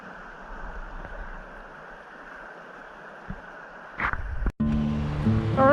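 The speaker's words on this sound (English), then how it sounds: "Not exactly quiet here with the rapids" Rushing river rapids flow as a steady broad roar, close by, at Motts Mills Conservation Area, then a few sudden bumps and clatters near the end break in.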